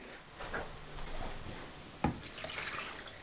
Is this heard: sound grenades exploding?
no